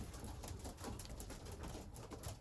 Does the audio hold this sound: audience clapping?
no